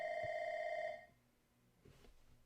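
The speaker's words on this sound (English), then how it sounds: "You guys hear that ringing again? Oh, it's the Kermit phone." An electronic toy telephone ring, a Kermit phone, a steady two-tone trill lasting about a second, then stops, leaving quiet room sound with a few soft knocks.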